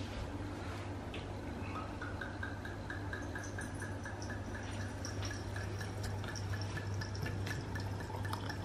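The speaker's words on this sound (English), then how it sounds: "we'll just put it through the aerator as well." Zinfandel wine pours through a wine aerator with a soft, continuous trickle and faint dripping, quiet and close, over a low background hum.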